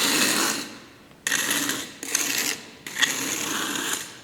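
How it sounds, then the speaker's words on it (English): A beveled hand float scrapes across freshly poured concrete in long rasping strokes, four distinct passes with brief pauses between, close and steady with no talking. "Now I'm using this float."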